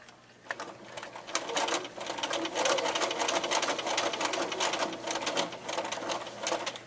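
Sewing machine stitching a fabric lanyard close to the fold, starting with a click and then running a steady rapid mechanical chatter at close range for several seconds.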